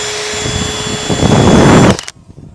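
A power drill bores pilot holes into oak cladding, giving a loud, close whine that rises under load for about two seconds and then cuts off abruptly.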